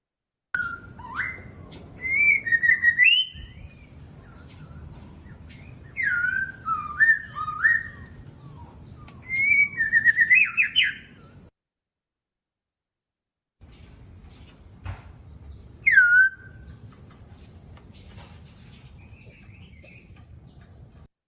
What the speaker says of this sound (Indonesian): Pertama, di sini merupakan proses pengambilan suara burung.